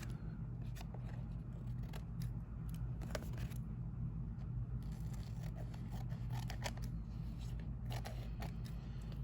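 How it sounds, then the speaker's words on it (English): Scissors trim the protruding edges of a newspaper collage, the background layer for a Keith Haring style painting, giving a series of crisp, close snips over a steady low room hum. "So you turn it over and you just trim those edges that stick out."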